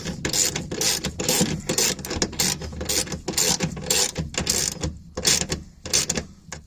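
A ratchet wrench clicks in quick, repeated bursts while tightening suspension bolts, up close and crisp, with short pauses between strokes.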